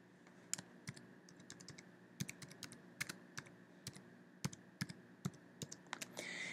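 Keys on a computer keyboard tap out a short label in quick, irregular bursts of crisp clicks, fairly close and quiet in an otherwise still room.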